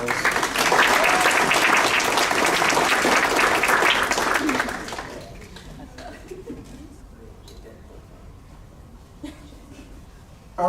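An audience at a school district staff awards ceremony applauds an honoree, a dense, loud round of clapping that lasts about four seconds and then thins into scattered claps and quiet room noise.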